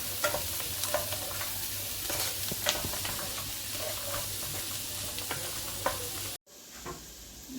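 Cashew nuts warming in a pan for paneer butter masala, a soft continuous sizzle with occasional stirring scrapes and clicks, ending in a sudden cut to quieter room noise.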